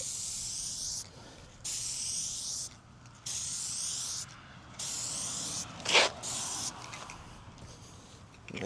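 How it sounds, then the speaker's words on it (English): Clear coat solution is sprayed onto a restored headlight of a 2018 Lincoln MKC in five close, loud hissing bursts about a second each, separated by short pauses, with a brief sharp mechanical click near the end. "you spray a solution? Yep, just spray it."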